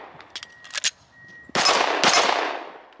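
Gunfire at an outdoor shooting range: a loud burst of rapid shots crashes in halfway through and rings on with a long, fading echo, preceded by a few faint clicks and handling noises.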